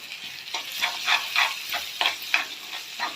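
A spoonful of ginger garlic paste sizzles in an ivy gourd curry, a steady bright frying hiss with repeated rhythmic stirring scrapes close by.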